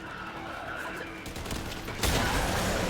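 Explosion in the video game Warframe, a sudden loud burst of noise cutting in over dense, steady game-action clatter and staying loud to the end.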